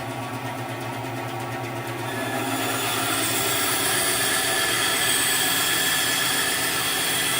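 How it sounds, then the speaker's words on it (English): A bandsaw cuts out a wooden axe handle, a steady mechanical whine and drone that grows louder and brighter partway through as the blade bites into the wood, close and continuous with no voices. "now that I cut it out on the bandsaw"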